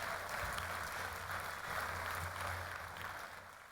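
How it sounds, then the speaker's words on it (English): An audience at a Morgan State University commencement ceremony applauds in a large hall, a steady, distant wash of clapping that holds evenly and then begins to fade. "please join me again in applauding Dr. Clara Adams and Dean Eugene DeLoach"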